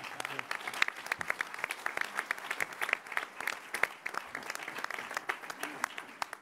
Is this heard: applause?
yes